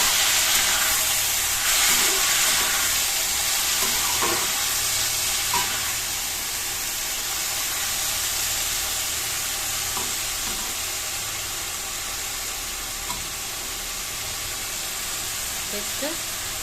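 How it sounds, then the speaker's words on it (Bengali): Onions browned in a pan with tomato added, stirred as they fry, giving a steady broadband sizzle with scattered scraping strokes, fairly close and continuous throughout, with a faint voice now and then. "এখানে পেঁয়াজটাকে অল্প লাল লাল ভেজে করে দিয়ে দেবো আমি টমেটো। ভালো করে নেড়ে চেড়ে নেবো।"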